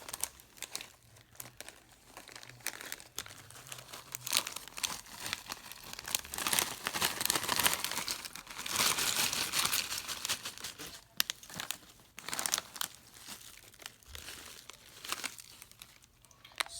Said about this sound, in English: you're going to put it into a plastic bag